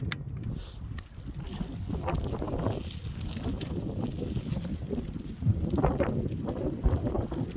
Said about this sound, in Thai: ลมด้วยค่ะทุกคน